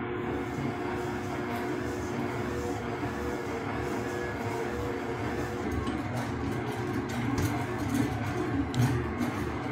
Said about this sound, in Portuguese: Uma batedeira normalmente faz 100 decibéis.